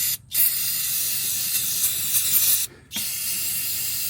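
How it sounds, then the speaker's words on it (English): An aerosol can of brake cleaner sprays onto a BMW B58 engine during an oil change in a long, steady hiss, with a short pause near the start and another toward the end, close and loud. "Grab just a little bit of brake cleaner here. Boom. Spray that down."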